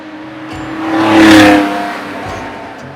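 A 1970 Porsche 911T engine revs while driving, the note swelling to a loud peak midway and then easing back, with a rough mechanical growl throughout.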